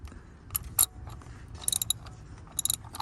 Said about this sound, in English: you're gonna get your oil filter wrench and put it on the extension. Then you're gonna put it on the oil filter and just turn it